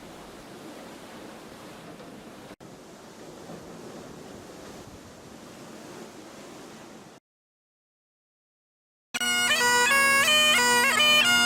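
Broad, steady rush of open sea waves during a day at sea aboard a cruise ship around the UK, continuous wind-blown surf that cuts out abruptly, followed by a burst of unrelated music.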